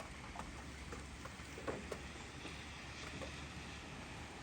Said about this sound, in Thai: บรรยากาศวันฝน ตก